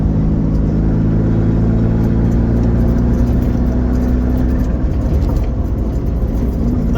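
A Vauxhall Nova GTE fitted with a C20LET 2.0 16V turbo engine runs loud and close, a dense continuous rumble with a steady low drone that roughens toward the end.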